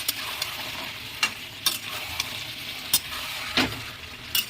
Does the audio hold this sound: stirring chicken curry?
yes